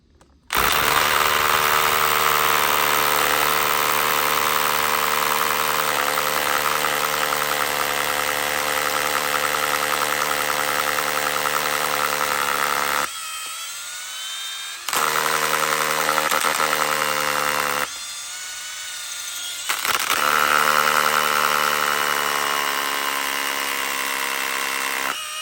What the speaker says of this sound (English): I've got like a 7mm drill bit in it, so we'll see how this performs.